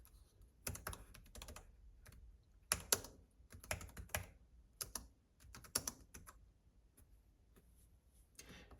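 Typing on a Nillkin magnetic bumper keyboard case for an iPad, with scattered clusters of close, crisp key clicks in irregular bursts and short pauses between them, moderately quiet with no talking.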